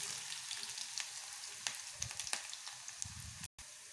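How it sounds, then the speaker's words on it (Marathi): Onion and garlic frying in a pan after cumin seeds, a close, steady sizzle with intermittent stirring scrapes and clicks, briefly cut out near the end. "कांदा लसण चांगलं फ्राय करून घेऊ"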